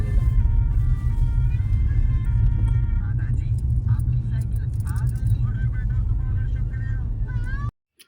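A truck passing on a winding ghat road, a loud low rumble of engine and road noise with a person talking over it, cutting off abruptly at the end.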